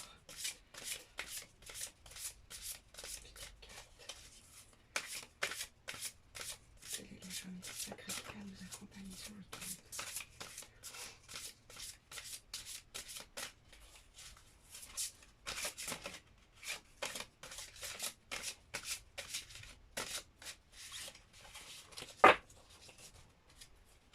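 Large oracle cards are shuffled over and over up close, making a quick, crisp riffling and slapping rhythm that goes on throughout, with a quiet voice talking now and then.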